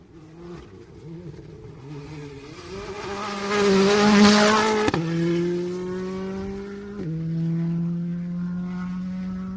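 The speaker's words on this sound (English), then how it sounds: "We'll see the next car coming through, which is, of course, going to be Alex Rouleau in the Hyundai" A Hyundai rally car on a special stage of the Adelaide Hills Rally: its engine note climbs as it approaches, drops sharply as it passes close by, then shifts again as it pulls away.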